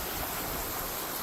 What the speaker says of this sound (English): This is a beautiful waterfall in the middle of nowhere